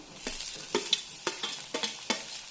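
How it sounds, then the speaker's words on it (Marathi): Onion and tomato fry in a pan with a steady sizzle, while about five rhythmic spoon scrapes and stirs sound close and clear, with no talking. "हे बघा, कांदा असा भाजत आलेला आहे."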